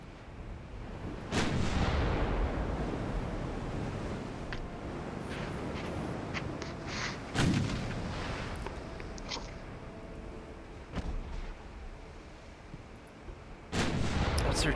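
Heavy naval guns firing high explosive shells in a naval warfare game, several deep booming shots spread across the span, each a sharp report followed by a long rumbling tail over a steady background roar.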